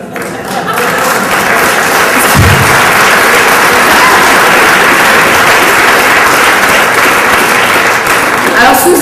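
A chamber of commerce audience in Longueuil bursts into loud, sustained applause after a speech. The clapping rises quickly and stays dense for several seconds, with a brief thump early on.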